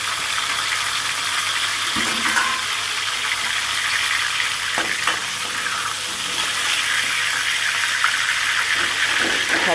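Pieces of silver carp fish frying in hot oil, giving a steady, loud, close sizzling hiss throughout with a few faint clinks and bubbling pops.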